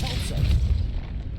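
Depulso repelling spell cast in Hogwarts Legacy, a single deep booming magical burst, loud and close, rumbling low and fading over about a second.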